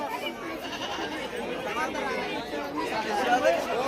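Goats bleating amid a busy livestock market in Shirur taluka, Pune district, with scattered bleats rising over constant crowd chatter and nearby voices.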